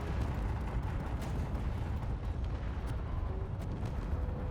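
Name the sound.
missile launcher impacts and explosions in the video game Space Engineers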